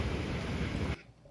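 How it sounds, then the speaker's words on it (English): Raging hurricane winds tear the roof off Tropicana Field, a dense, loud roar of rushing wind and buffeting noise that cuts out abruptly near the end. "that's the sound of like the raging winds ripping the roof off"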